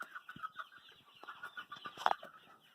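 Chickens cluck and murmur softly over fresh feed, scattered quiet clucks and pecking with one sharper squawk near the end, faint and close.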